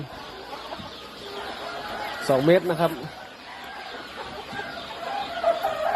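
Chickens in farm breeding cages give a brief burst of clucking partway through, under someone talking, with low farm ambience throughout.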